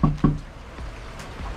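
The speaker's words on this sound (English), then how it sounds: "I'm knocking on the door now." Two quick knocks on a front door during a food delivery, loud and close, followed by quiet room ambience.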